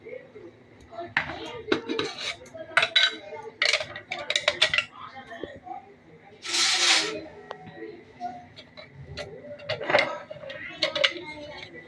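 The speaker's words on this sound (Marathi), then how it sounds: "असं सगळीकडे ढवळून घ्यायचं तूप" A spoon stirs ghee into a cooking pot, making repeated metallic clinks and scrapes against the pot in an irregular rhythm, with someone talking over it.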